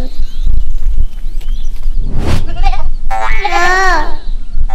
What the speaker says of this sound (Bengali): ছাগল ছানা লাফিয়ে চলে।